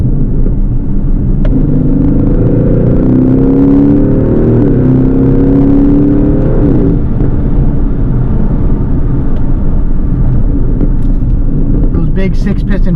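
An Aston Martin DB11 Volante engine downshifting in Sport Plus while braking hard on steel six-piston front brakes, giving a loud, steady rumble with rising and falling engine notes under continuous road noise and a voice.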